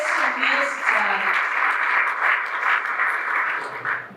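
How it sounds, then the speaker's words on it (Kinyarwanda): Audience applause at a ceremony, a steady wash of clapping from a crowd sustained for several seconds, with a voice speaking over it. "Mufashe tubakomera amashyi menshi abakoreye, amashyi menshi cyane"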